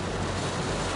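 A heavy rain downpour in South Luangwa soaks a road that is turning into running water, making a dense, steady, broadband roar that fills the whole second, close and loud, with no talking.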